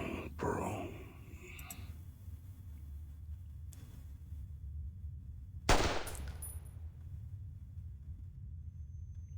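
A single sharp gunshot in the video game Reverse: 1999, a loud broadband crack a little past the middle of the clip, standing out against quiet background rumble and faint murmuring.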